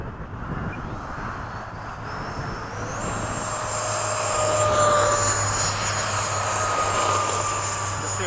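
E-flite F-16 RC jet flying in formation, a loud steady ducted-fan whine with rising and falling pitch sweeps as it passes, over a constant low hum and outdoor background.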